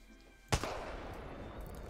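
A single gunshot in the Apex Legends video game, one sharp, loud crack followed by a lingering rumbling tail and faint background game noise.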